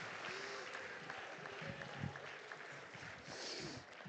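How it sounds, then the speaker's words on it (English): Faint, distant applause at a boxing hall of fame induction ceremony, a continuous wash of clapping with a muffled crowd murmur throughout. "You should give that the round of applause."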